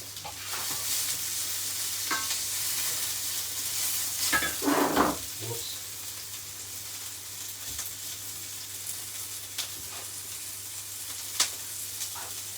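Pepper frying in a pan for a jerk-style chicken stew, with a steady close sizzle and occasional stirring scrapes throughout.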